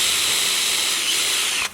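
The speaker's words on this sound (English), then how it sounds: "I'm going to use an adjustable square to set the hole and just drill down" A power drill bores down into a wooden shelf, set with an adjustable square and not going right through, giving a steady, close, high whirring grind that runs unbroken for nearly two seconds before cutting off.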